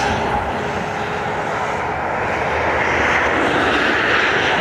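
A Ryanair Boeing 737 Max from Brussels thunders at Dublin Airport with a loud, steady broadband jet roar that builds slightly, close and continuous without pauses.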